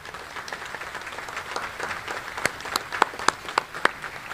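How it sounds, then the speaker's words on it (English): Audience applause at an Army change of command ceremony, a dense wash of clapping with a few sharp, louder individual claps standing out near the end of the short burst. "let's please give them a round of applause"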